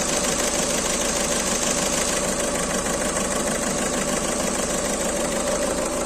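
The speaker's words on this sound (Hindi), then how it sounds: "सो इंजन भी जो है पूरा जर्क कर रहा है" A Volkswagen Vento engine idles roughly with an injector misfire, a loud, continuous uneven drone with shaking vibration heard close up, no talk.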